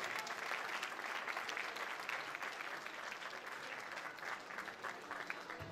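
An audience at a concert celebrating a musician's 50 years in music applauds as a women's choir returns to the stage, a steady, even roar of many hands that is soft in level and sustained for nearly six seconds.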